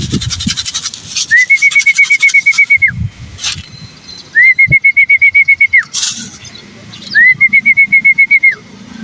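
Pigeons being fed at a rooftop coop, with three close, bright bursts of rapid, evenly pulsed chirping notes spaced a few seconds apart over soft rustling and scattered knocks.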